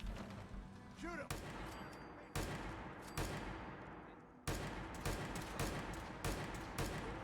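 Gunfire in the Fallout 4 video game, several loud bursts and bangs of shots spread through the clip, with voices talking over the fighting.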